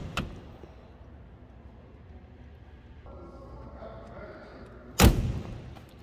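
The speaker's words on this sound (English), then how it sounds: "Listen to how this door closes the way a door should." A 1934 Pierce-Arrow 836 Brougham's car door closes once with a single solid, heavy thump near the end, preceded by a fainter click and quiet handling sounds nearby.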